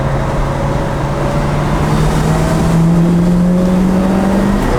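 A 1972 Chevrolet Chevelle SS with its V8 running, a steady, loud, close engine drone with a faint slow pitch drift and no talking.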